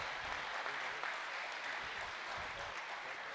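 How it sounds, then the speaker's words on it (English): Audience applause for a 7th and 8th grade middle school all-stars team at a showcase game, steady dense clapping from a crowd, sustained and fairly distant, holding an even level throughout. "please give a big round of applause for your 7th and 8th grade Poland All-Stars."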